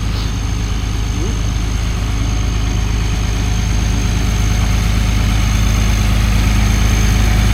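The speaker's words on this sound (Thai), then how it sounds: "นี่เครื่องสูบน้ำใหญ่" A large water pump engine in a rice field runs in a steady, loud, low droning rumble that holds unchanged throughout, close by and continuous.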